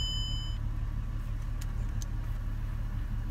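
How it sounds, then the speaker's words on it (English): A Mercedes car engine idling after being started, a steady low rumble heard from inside the vehicle, constant and moderately loud, with a couple of faint short clicks partway through. "So now let's turn on the car."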